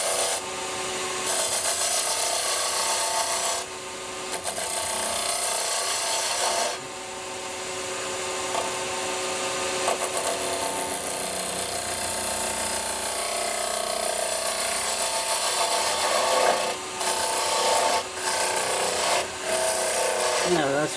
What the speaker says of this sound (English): get me spindle gouge just there. Turn the speed up. Just get a nice cut.